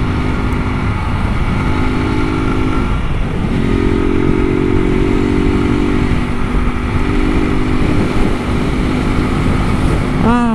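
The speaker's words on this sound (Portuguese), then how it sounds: "Sentir o vento no rosto, poder andar em sua moto." A motorcycle engine drones steadily and loudly throughout, a continuous ride with wind and road noise and no clear pauses.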